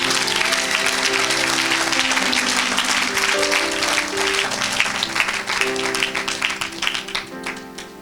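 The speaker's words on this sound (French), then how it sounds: "Oh, acclame pour Jésus-Christ" An audience at a church service claps and cheers for Jesus Christ, with dense, sustained applause over steady musical tones throughout and a slight thinning toward the end.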